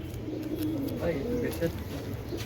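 Racing pigeons at a club loft on a farm coo in soft, rolling low calls close by, while voices murmur alongside them.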